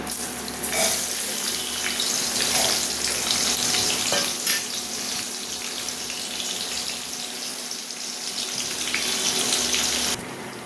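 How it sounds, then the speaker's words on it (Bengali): Onions fry in a hot pan with whole garam masala, giving a continuous loud sizzle that runs nearly unbroken throughout, with faint stirring clicks. "পেঁয়াজটা লাল করে ভাজা হয়ে গেছে"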